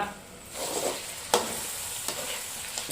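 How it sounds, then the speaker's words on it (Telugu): Chicken curry simmering in a pot with ragi flour added, giving a soft bubbling sizzle with occasional sharp clinks of a spoon or lid against the pot, close by and with no voices. "ఒక పక్క చికెన్ అయితే ఉడకుతా ఉంది బాగా."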